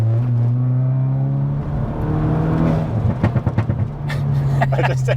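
A VW Polo GTI Clubsport engine and exhaust with a rear back box fitted revs up near the listener, the steady drone giving way to a burst of sharp throttle blips and pops while people talk over it.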